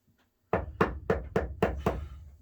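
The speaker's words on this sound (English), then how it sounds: "Now we got somebody knocking on the door." Six firm knocks on a door in a steady, evenly spaced rhythm, close and fairly loud, starting after a brief near-silence with no talking.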